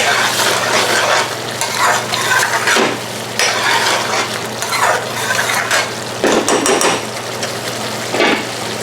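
Chicken shatkora curry in Indian restaurant-style base gravy bubbles and sizzles in a pan, with steady frying hiss, repeated scraping stirs and occasional utensil clatter, no talking.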